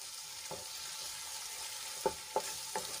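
Spices fry in a pan with a constant soft sizzling hiss, punctuated by a few quick scraping stirs and light clacks, heard up close with no talking.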